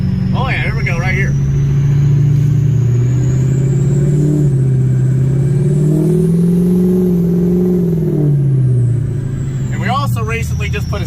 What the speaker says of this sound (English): Recently just put a stack on the truck too. A nice good 10-inch stack right out the back here. And I tell you what, boys, it is loud.